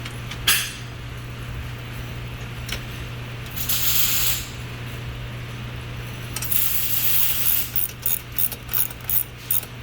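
A ratchet wrench tightens bolts on the center post of a variable-height table, with bursts of clicking pawl ratcheting, a longer whirring stretch, then a run of rapid, evenly spaced clicks near the end over a steady low hum.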